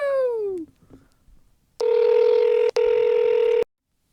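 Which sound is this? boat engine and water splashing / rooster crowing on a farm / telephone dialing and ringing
telephone dialing and ringing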